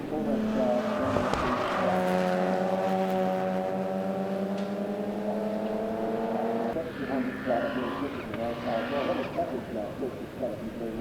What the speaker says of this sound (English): Craig Maloney in the Subaru WRX, a very rapid little race car, and he takes the win as he crosses the line